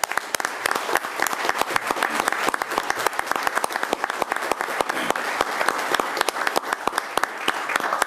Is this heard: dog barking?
no